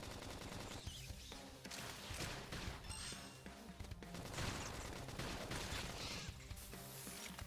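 Flame grenades go off amid a busy Xenoblade Chronicles X battle, a dense wash of bursts and crackling blasts that keeps the mix loud and cluttered throughout.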